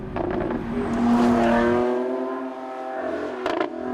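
A 2019 Lamborghini Aventador drives through track corners, its engine note loud and close, sweeping upward through a strained rev before easing off, then a second sharp burst of revving near the end.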